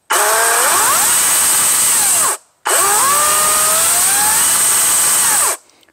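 EGO Power+ CS1611 16-inch 56V lithium-ion cordless brushless chainsaw running at variable speed, two loud close bursts of high whining motor and chain with rising and falling pitch, separated by a brief pause, no talking.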